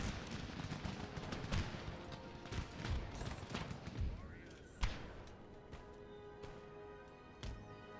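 Rapid bursts of cavalry gunfire crackle and thud in a busy Empire: Total War battle mix, with scattered louder shots standing out.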